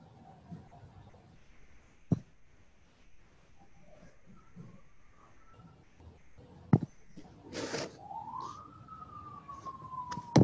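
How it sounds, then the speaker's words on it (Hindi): An ambulance siren sounds from a distance, rising into a long wailing sweep near the end of a mostly quiet scene punctuated by a few sharp knocks. "फिर एम्बुलेंस आ गई।"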